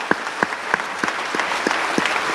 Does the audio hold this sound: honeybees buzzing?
no